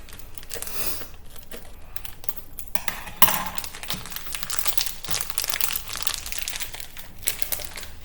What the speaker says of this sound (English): So to cut along the cheese line, so I can open my cheese.